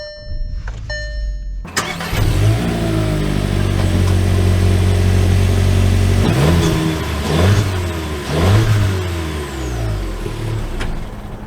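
A 2024 Volkswagen Jetta with a manual transmission cranks and starts, then settles into a loud, close idle broken by several quick revs that rise and fall. A faint electronic chime is heard just before the start.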